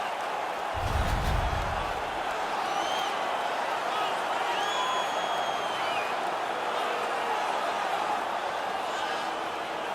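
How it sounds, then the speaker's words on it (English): Steady roar of an arena crowd in the NHL 19 hockey video game, an Edmonton Oilers versus Nashville Predators game, a constant broad wash of cheering noise throughout with a brief low thump near the start. "The crowd is all over them right now."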